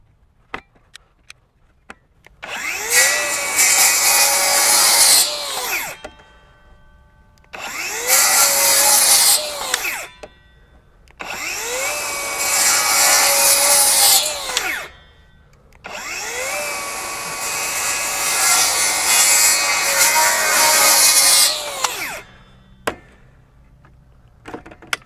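A Flex FX2141R 24-volt brushless rear-handle circular saw rips through wood in four loud whining cuts of a few seconds each, the motor spinning up, holding steady under load and winding down between passes.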